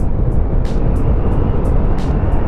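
Honda ADX 160 scooter ridden at full throttle, a steady loud engine drone with heavy wind rush and faint high chirps, no talk.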